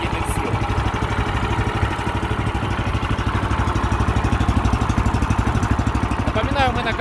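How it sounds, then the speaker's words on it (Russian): A 13-horsepower Weima walk-behind tractor engine idles close by, a steady rapid low thumping pulse that holds evenly throughout with no talk over it. "у вас есть возможность послушать, как шепчет двигатель Вейма мощностью 13 лошадиных сил"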